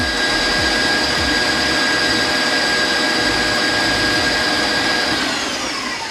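Electric stand mixer with a paddle attachment beating Southern-style buttercream at low to medium speed, a steady, loud motor whir with continuous churning that runs throughout and eases slightly at the end.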